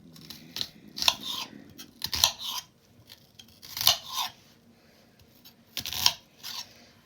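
A knife chops through the end of an onion with several crisp, close crunching cuts spaced a second or two apart, separated by quiet pauses.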